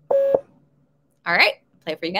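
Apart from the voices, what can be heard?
Morse code dot beep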